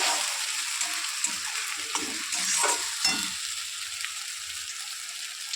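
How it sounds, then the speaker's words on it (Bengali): A paste of ground ginger, cumin, chili, garlic and onion sizzles steadily in a hot pan, with occasional scraping stirs over a continuous close frying hiss. "বেটে রাখা মশলাগুলো, আদা, জিরা, লঙ্কা, রসুন, পেঁয়াজ, এটা একটু পেস্ট করে নিয়েছি। এটা দিয়ে একটু কষাবো ভালো করে।"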